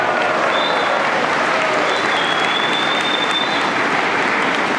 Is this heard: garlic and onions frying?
no